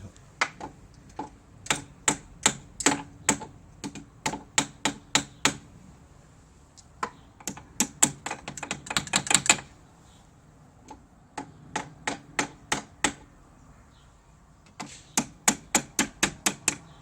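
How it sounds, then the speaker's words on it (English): A Yamaha TZR50 motorcycle headstock bearing is gently tapped onto its taper, giving sharp metallic knocks in quick bursts of several taps with short pauses between them, close and clear with no talking. "Just a gentle tap. I think that's probably on a taper."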